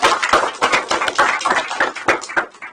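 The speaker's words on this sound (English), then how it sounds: "A huge round of applause for all of them" An audience at a company headquarters launch event applauding the team, a short burst of scattered, uneven clapping close by that thins out toward the end.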